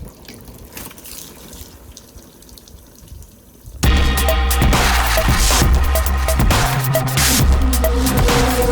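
Water from a rinse sheets and splashes off the painted body of a Toyota Sienna minivan, starting as a faint trickle and then jumping abruptly to a loud, steady gush of spray and splatter, close and with no talking.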